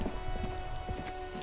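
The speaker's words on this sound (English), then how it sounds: "Stuck in the rain in a traffic jam, man." Rain patters steadily on a car roof while stuck in a traffic jam, a dense, even drumming of drops with no voices.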